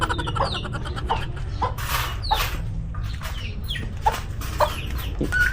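Turkey gobbling and clucking repeatedly in a busy farmyard, with several sharp calls over a constant rumble of background noise.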